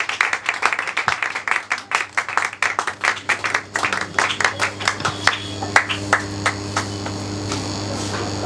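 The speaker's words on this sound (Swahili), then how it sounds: "kwa shangwe na vigelegele tukukaribishe mtumishi wa Mungu Pastor Daniel Bless" Applause from a church audience welcoming a preacher, dense clapping and cheering that swells then thins to scattered claps over a steady hum.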